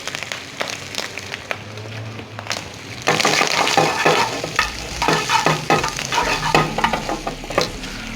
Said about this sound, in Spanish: acá donde estamos sofriendo el tocino, el chicharrón que ya en esto está, vamos a agregar lo que es el plátano maduro